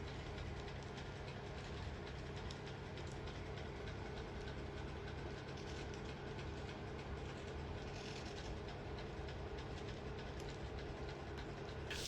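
Steady mechanical rumble with continuous clicking and rattling of a small model railway train running along track at a Dawlish Warren layout set circa 1963, constant and unbroken throughout.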